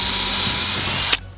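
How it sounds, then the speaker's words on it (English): Power drill with a 1/8 inch bit boring pilot holes in a tailgate panel on a Lexus GX470, a close high-pitched whine that holds steady for about a second then stops abruptly. "you want to go through with an 1/8 inch drill bit and create some pilot holes for those screws to go through"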